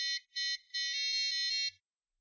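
One electronic buzzer beeps out a short sequenced tune of piercing tones: two brief notes, then a longer run that shifts pitch, ending abruptly in silence.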